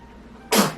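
A single short, sharp sneeze bursts out loudly after a moment of near quiet, fading quickly.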